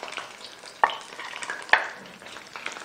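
Chicken pieces fry in oil over a high flame for sesame chicken, giving a steady close sizzle broken by two sharp knocks of a stirring utensil against the pan.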